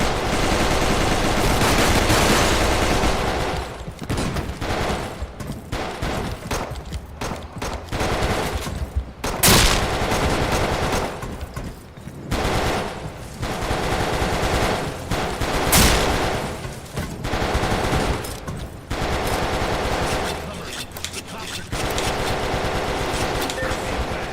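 Sustained video-game gunfire from hip-fired weapons in a hostage-rescue shooter, loud dense bursts and rattling volleys running nearly continuously with brief lulls, no talk over it.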